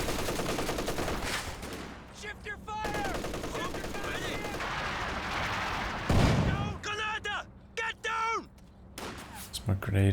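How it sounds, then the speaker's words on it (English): MG34 machine gun fire in Company of Heroes 2 rattles in bursts alongside other battle shots and booms, loud and choppy, while a voice talks over the fighting. "On for his second MG34 as well, helping him force back Joe's infantry"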